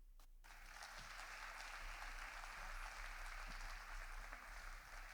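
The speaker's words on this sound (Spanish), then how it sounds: "Reiteramos nuestro aplauso y cordial recibimiento a Guadalupe Batallán." An audience applauds to welcome a speaker at a talk: a faint, even wash of many hands clapping that holds steady for several seconds after a brief louder burst at the very start.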